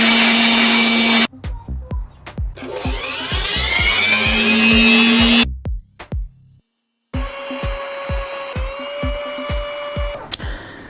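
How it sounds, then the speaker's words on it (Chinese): A hair dryer blows dust out of the cooling fan of a Lenovo Legion laptop: loud, steady whirring with a whining motor tone, broken by sharp clicks, a brief stop and a restart. "接下来清理就是拿刷子刷，拿吹风机吹啊"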